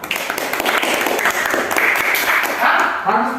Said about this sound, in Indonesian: Tepuk tangan dulu si Deborah.